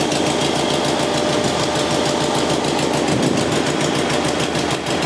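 An old Harley-Davidson Sportster engine runs with badly retarded ignition timing, a steady, close, uneven chugging idle with a rapid, slightly knocking beat throughout.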